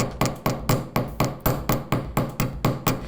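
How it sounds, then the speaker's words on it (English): Round end of a chasing hammer paddling a metal crescent arc for earrings, a dozen crisp, evenly spaced taps in a steady rhythm, close and clear with no talking. "I'm gonna use the round end of my chasing hammer and just paddle this end"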